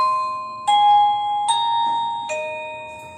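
A cheap wireless doorbell plays a chime melody, with three bright bell-like tones struck about a second apart, each ringing and fading, close and clear in a quiet room.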